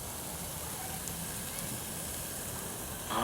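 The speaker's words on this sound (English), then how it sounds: "Listen to that sizzle." Food sizzling on a grill over a wood fire, a steady broadband hiss held at even loudness throughout, with a slight rise right at the end.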